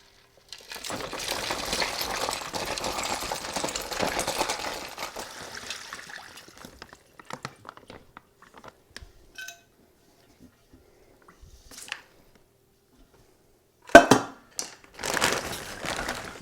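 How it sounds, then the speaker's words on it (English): Citrus brine pours into a plastic bag holding a turkey, a close, sloshing gush for several seconds that thins to trickles and drips, followed by a few crinkling bag sounds. "now we're going to pour the brine into the bag with the bird"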